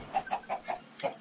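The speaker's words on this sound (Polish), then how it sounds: "No i mamy małego kurczaka." Small Minecraft chicken giving a run of short, evenly spaced clucks, about six quick chirpy calls in just over a second, close and clear with no talk over it.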